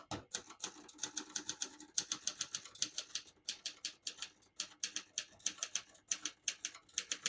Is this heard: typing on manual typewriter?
yes